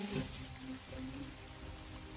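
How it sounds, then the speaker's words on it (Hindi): Steady, dense rain hisses throughout with a continuous broadband wash and no voices, sounding close and fairly loud; a heavy night-time downpour with lightning. "अंधेरी रात में कड़कती बिजली के साथ जोरदार बारिश हो गई"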